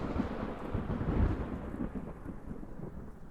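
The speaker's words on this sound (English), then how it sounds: "The wind is howling wildly, thunder and lightning rages every second" Thunder rumbles through a storm, a deep rolling roar that swells to a heavy peak near the middle and then fades into a softer, steady drone of rain.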